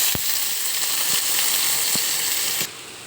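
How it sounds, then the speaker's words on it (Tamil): Sliced onions frying in a pan for paneer salna give a steady, loud hissing sizzle, with a few soft clinks of a stirring spoon against the pan before the hiss drops slightly at the end. "வெங்காயம் நல்லா வதங்கிருச்சு."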